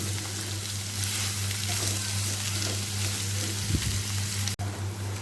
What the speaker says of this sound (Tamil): வெங்காயத்தை எண்ணெயில் நல்லா வதக்கி விட்டுட்டு, வெங்காயம் வந்து ரொம்ப பொன்னிறமாக வர்ற வரைக்கும் வதக்கணும்